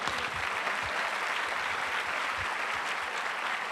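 A church congregation applauds in a continuous, fairly distant stream of clapping, a steady wash of many hands with no pauses.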